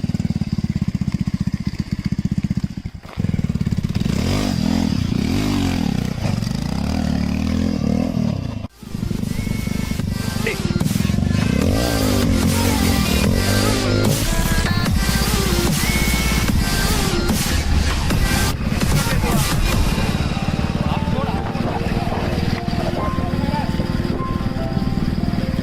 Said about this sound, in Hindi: ये चल रही है हमारी बाइक